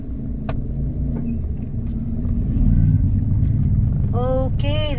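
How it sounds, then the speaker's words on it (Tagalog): Road traffic rolls past in a steady, loud low rumble of car engines that swells slightly midway, with a person's voice briefly breaking in near the end. "Okay, there's a traffic in here"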